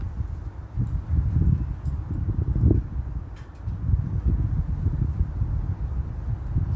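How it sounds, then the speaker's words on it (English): Steady low wind rumbling and buffeting against the microphone throughout, with faint rustling and no talk. "it's quite a windy day today."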